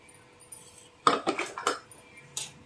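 Hot patvadi, a Maharashtrian gram-flour dish, is lifted onto an oiled tray with metal utensils, a handful of sharp clinks and scrapes in a short uneven burst, close and fairly loud with no talking.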